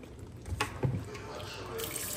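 Water is poured over rice in a cooking pot, giving a soft, irregular splashing and trickling with a few brief clinks, fairly close and fairly quiet.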